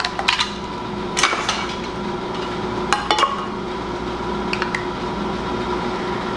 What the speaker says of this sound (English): And then you're going to put your lids on.